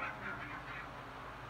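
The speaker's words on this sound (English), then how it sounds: "Chickens everywhere." Poultry clucks and squawks in the village of the Resident Evil 4 video game, a few faint, brief calls over a quiet ambient backdrop without speech.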